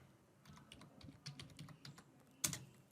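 Soft typing on a computer keyboard as a workflow name is entered, a brief irregular patter of quiet key clicks ending with one sharper keystroke, close and faint.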